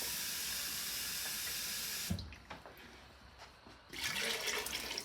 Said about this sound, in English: I'm going to rinse the bottle